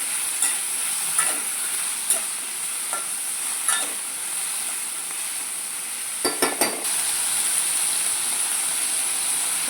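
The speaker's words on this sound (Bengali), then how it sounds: "একটুখানি জিরা, সবজিগুলো দিয়ে দেবো সব।" Vegetables and cumin sizzle steadily in a hot pan for sabudana khichdi, under a constant frying hiss and punctuated by several sharp scrapes and clinks of a stirring spoon.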